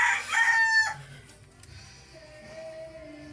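A rooster crows loudly once, close by, followed by quieter background farmyard sounds.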